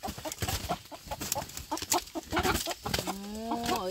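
A rooster clucks repeatedly in short, close bursts, then lets out a longer drawn-out call near the end, with no talk over it.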